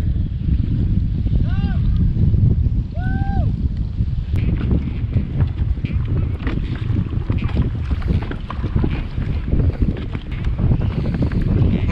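Strong stormy wind roars steadily into the microphone while kayaking at sea, a constant loud buffeting rush with a couple of brief high tones early on and no clear speech.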